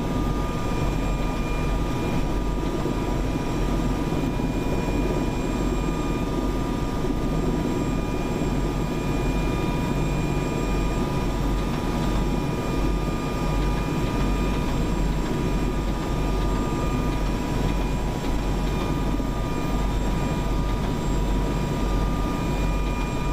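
Mil Mi-26 helicopter lifting off for a low circuit over a forest, a steady loud rotor and turbine roar heard from inside the cabin, broadband and continuous with sustained tonal whine throughout.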